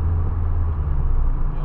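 A Ford Fiesta XR2i driving through Istanbul, with a steady low engine and road rumble heard from inside the car.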